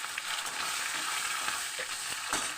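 A fish head fries in oil with radhuni seeds, a soft, steady sizzle with faint crackles and a light stirring scrape, heard close and quiet with no talking.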